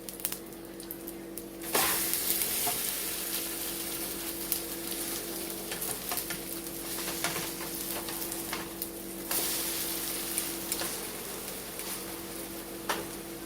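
French toast frying in a pan on medium-high heat, a steady close sizzle and crackle running throughout with small pops, no talking.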